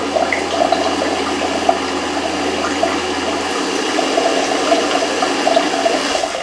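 Water sprays steadily from the nozzle of a Toptoilet Luxe Gold Connect Japanese bidet toilet seat while the nozzle position is adjusted, a continuous close hiss with a faint mechanical hum underneath and no voices.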